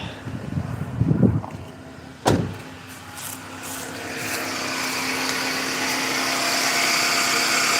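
A car engine starts after a sharp clunk following a spark plug change and settles into a steady running hum that gradually builds in the background, with no talking.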